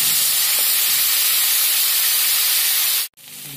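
Eggplant hits hot oil with softened green chillies for a Khandeshi-style bhaji, a loud, close, steady hiss of sizzling that cuts out abruptly for a moment, then resumes; no voices.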